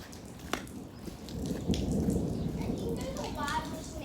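Thunder rumbles through steady rain falling on grass, a low rolling swell building and lingering while the rain patters close by, with a voice speaking faintly.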